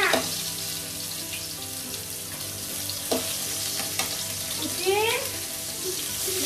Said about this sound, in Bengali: মাছ ভাজা হয়ে গেছে, মাছ ভাজা নামিয়ে নি